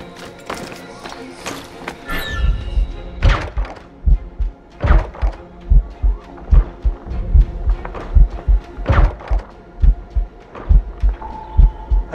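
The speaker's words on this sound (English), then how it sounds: "Keeps my heart beating." A poisoned character's heartbeat in Assassin's Creed Rogue pounds as loud, regular heavy thumps, gradually steadying into a rhythmic pulse over a low hum, with a few other game sounds.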